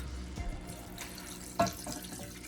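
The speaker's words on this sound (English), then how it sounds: "so I'm going to be adding some water" Water being poured into a pot of pumpkin and codfish, a faint trickling and splashing with one brief louder splash, fairly close.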